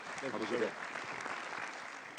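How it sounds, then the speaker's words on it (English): Audience applause at a conference session, a soft, fairly distant patter that stays even throughout, with a brief voice near the start. "give a big round of applause for Saeed Mubarak Al Hajiri"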